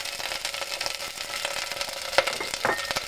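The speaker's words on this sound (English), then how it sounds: "Into the hot oil, add the garlic" Garlic sizzles and spatters in hot oil in a pan, a steady close crackle with occasional sharper pops and a light stir, no voices over it.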